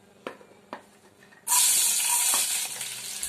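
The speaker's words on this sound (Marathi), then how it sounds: "आता इथे कढईमध्ये बघा मी तेल टाकले. त्यात पहिला आपण टाकूया आलं लसूण आणि एक मिरची" Ginger, garlic and a green chili dropped into hot oil in a kadhai burst into a loud, bright sizzle halfway through, after a few quiet clinks, and keep frying steadily to the end.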